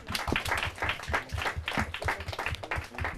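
A small audience claps for quiz teams at a Portuguese-language quiz round, brisk and fairly close, with distinct individual claps in a steady patter throughout.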